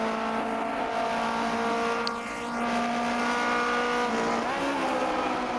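A 1950s Formula 1 race car in the rFactor 2 racing game on the 1967 Sachsenring, its engine droning steadily at high revs, with a brief tire squeal and a gear change partway through.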